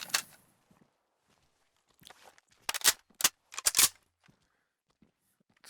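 A rifle being reloaded in a shooter video game, heard as a tight cluster of sharp mechanical clicks and clacks in the middle of an otherwise quiet stretch, with no talking.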